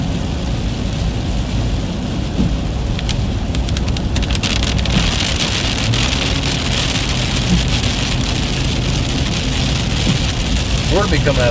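Steady heavy rain drums on a moving car during a storm with flooding roads, a dense continuous hiss with wind noise and the rumble of the vehicle underneath.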